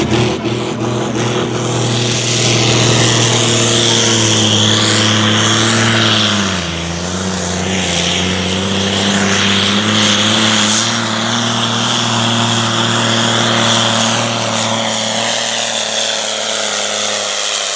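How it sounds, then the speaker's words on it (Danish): A Fiat 1580 tractor pulling the sled at a tractor-pull championship in Ørum, its engine roaring loud and steady with a brief drop in pitch partway through, then climbing and fading toward the end. "Endnu gang melder vi klar med Fiat 1580'er."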